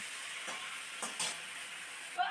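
Chicken being stir-fried in white oil for homemade biryani: a steady, soft frying hiss with a few light stirring scrapes, fairly faint and with no voices.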